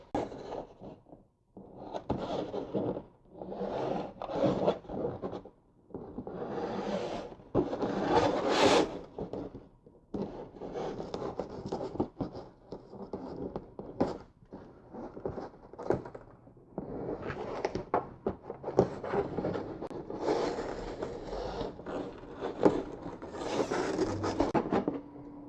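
Gorilla Tape being pulled off the roll and pressed along the edges of a copper grounding mat, with near, continuous ripping, rubbing and scraping in long uneven stretches, no talking.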